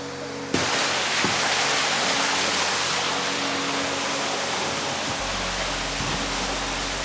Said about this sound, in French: je suis à la cascade